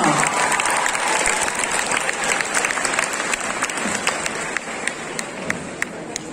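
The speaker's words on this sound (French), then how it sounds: "On applaudit encore une fois bien fort Cruella" A crowd at the Art To Play Nantes 2021 cosplay contest gives loud, sustained applause that eases slightly toward the end, where a few sharp individual claps stand out.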